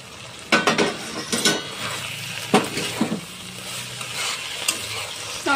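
Shrimp sautéing and being stirred in a pan, loud close scrapes and clinks of the spoon against the pan at irregular intervals over a continuous sizzle, no talking.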